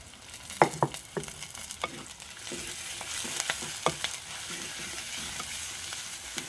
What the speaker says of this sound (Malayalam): ചതച്ച് വെച്ചിരിക്കുന്നത് ഇഞ്ചിയും കൂടെ ഇതിലോട്ട് ചേർത്ത് കൊടുക്കാം